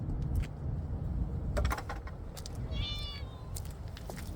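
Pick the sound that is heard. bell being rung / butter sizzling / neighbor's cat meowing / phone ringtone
neighbor's cat meowing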